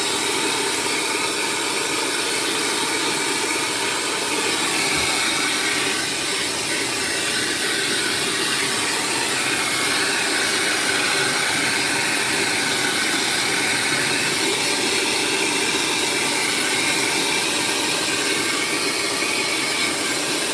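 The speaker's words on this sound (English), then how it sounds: "I call it my finishing dryer." A pet grooming finishing dryer blows steadily at close range on a long-haired cat, a constant loud airy roar and hiss with no breaks.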